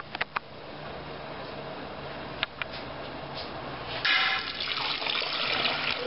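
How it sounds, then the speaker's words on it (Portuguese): Water runs steadily from a tap into a drinking glass as a lemon detox juice is made, a continuous close splashing flow that swells louder near the end. "Vou começar a colocar primeiro a água."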